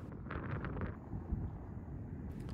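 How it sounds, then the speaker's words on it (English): Soft wind on a hillside slope buffets the microphone in a low, steady rumble, with a few faint gusty flutters and no voices. "The wind was pretty soft on this day"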